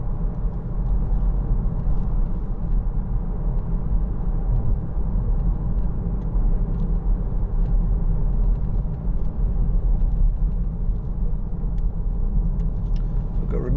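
A 2011 Peugeot 3008 2.0 HDi diesel cruises on a road test, a steady low engine and road rumble droning continuously from inside the cabin, with no talking.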